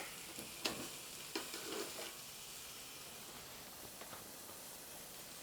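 Broccolini and porterhouse steaks sizzle faintly on a STOV portable gas BBQ, a soft steady frying hiss broken by a few brief sharp scrapes and clicks early on, with no one speaking.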